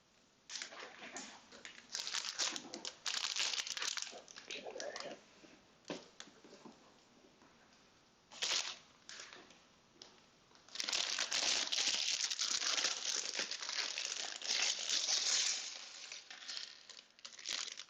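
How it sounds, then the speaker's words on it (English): A crinkly plastic LEGO parts bag being handled and torn open, with bursts of loud close crackling rustle, pauses, then a long sustained stretch of crinkling. "here we go, crinkles"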